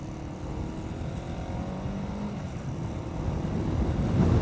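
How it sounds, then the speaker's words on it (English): Strong wind roars and buffets past a motorcycle rider on the road, a dense, steady rumble that swells louder toward the end, with the bike's motor blended in beneath it. "Oh my God, the wind!"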